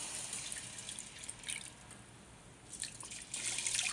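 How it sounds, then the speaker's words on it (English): About a cup of water poured into the center of a hot cast iron skillet being cleaned, giving a soft splashing, dripping patter that fades briefly and then surges again, with no talk over it. "I'm going to take this about a cup of water"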